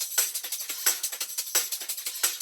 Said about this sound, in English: I was really going for that swooping, lasery sound.